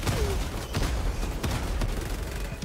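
Gunfire in Helldivers 2, aimed at an enemy's feet: a rapid series of close, punchy shots and blasts tumbling over one another in quick succession, heavy and dense throughout.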